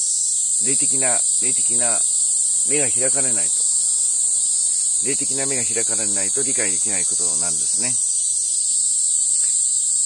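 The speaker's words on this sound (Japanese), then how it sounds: "今セミが鳴いています。" Cicadas sing outdoors in a constant, loud, high-pitched drone that lasts the whole time, while someone talks steadily over it.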